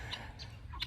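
Chickens clucking and squawking close by in a backyard flock kept with guinea fowl, a few short bursts over a steady low background.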